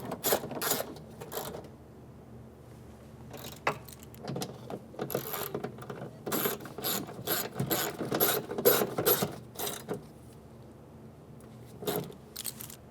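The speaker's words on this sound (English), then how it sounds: "and then install the bolts" A ratchet tightens window regulator bolts inside the door of a 2003-2008 Honda Pilot, with rapid metallic clicking bursts repeating close up over roughly thirteen seconds and short pauses between runs of turning.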